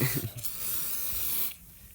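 Cleaning spray is blasted into the padding of a motorcycle helmet, a steady close hiss lasting about a second and a half before cutting off into quiet.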